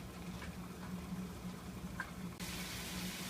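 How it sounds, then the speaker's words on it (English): A pasta sauce of wine, onions and garlic simmers in a pan, giving a soft, steady bubbling hiss with a few faint pops and a brief clink partway through. "Bring that to a simmer."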